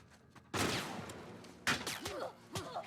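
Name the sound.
gunshots in The Last of Us: Left Behind video game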